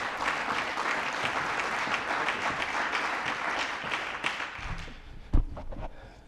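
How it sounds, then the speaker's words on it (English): Applause from a conference audience welcoming two panelists, a dense steady clatter of many hands filling the room before it thins and breaks into a few scattered claps near the end. "Thank you all for the applause"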